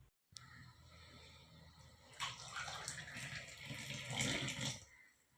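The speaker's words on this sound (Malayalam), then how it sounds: "ഞാൻ ചായക്ക് വെള്ളം വെച്ചിട്ടുണ്ട്, അത് തിളയ്ക്കട്ടെ" A pot of water for black tea heats on the stove, quiet at first. After a couple of seconds a soft, rising hiss and bubbling builds toward a boil, close and steady.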